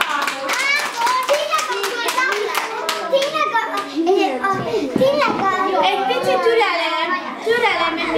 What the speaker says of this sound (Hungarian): Tapsoljuk őt át.